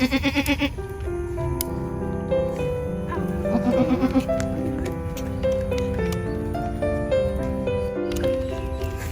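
Several goats on a goat farm bleat close by in repeated wavering calls, overlapping and loud, with occasional faint rustling and background farm noise between cries.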